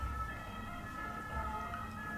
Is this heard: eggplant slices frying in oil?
no